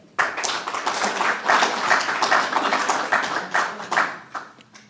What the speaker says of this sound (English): Once again, a round of applause for her.